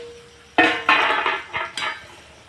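Lid of a cooking pot holding a curry with peanut fritters, lifted off with a few sharp metallic clanks and scrapes, close and fairly loud, following a faint hum.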